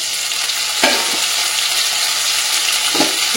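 Green peas and tomato fry in a wok with a loud, close sizzle as a spatula stirs and scrapes the metal, giving two distinct scraping strokes over the steady hiss.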